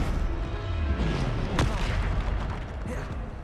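Depulso spell effect in Hogwarts Legacy during a fight with dark wizards: a heavy booming blast with a swooping whoosh and sharp crack near the middle, dense and loud over rumbling combat noise.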